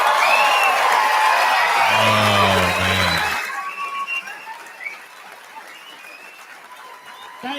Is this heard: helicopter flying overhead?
no